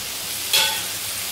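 Sliced potatoes hit a hot frying pan with salt, a little sweet spice and other spices. One short sizzling burst rises from a quiet, even background.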